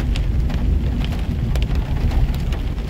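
Rain mixed with hail beats down around a vehicle out on a drive in a sudden storm: a constant heavy patter, cut by sharp, scattered clicks as hailstones strike.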